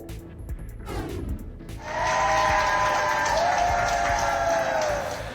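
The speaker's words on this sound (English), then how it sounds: "And why are these people clapping?" A group of people bursts into sustained clapping after a quieter, murmuring start, the applause dense and even, holding steady until it eases slightly at the end.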